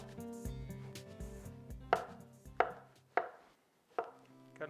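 A kitchen knife chops fresh mushrooms into thick slices on a board for a pasta puttanesca, four crisp, evenly spaced cuts landing close and clear over a faint background hum.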